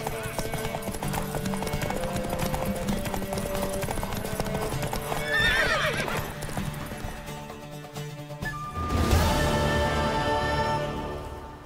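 A horse in The Witcher 3 clip-clops along steadily, with a whinny breaking through midway and a louder snort or neigh later. Game music and ambience play throughout.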